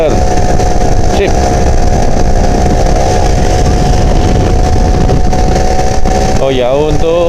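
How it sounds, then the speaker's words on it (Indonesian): An old Yamaha Alfa 2R motorcycle engine drones steadily while climbing a mountain road between volcanoes, loud and close under continuous wind and road noise, with a brief horn-like warble near the end. "untuk motor Alfa ini Mas Gondrong pakai oli Idemitsu mas"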